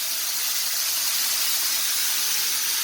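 Squid deep frying in hot oil makes a loud, steady, dense hiss of bubbling fat, close and continuous, with no voices.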